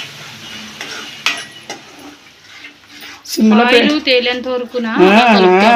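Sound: stirring curd into drumstick masala gravy in a pan

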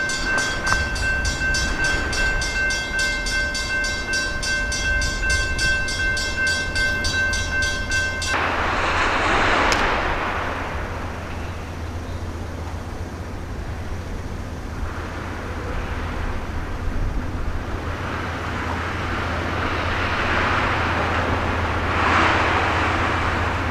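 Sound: freight train passing

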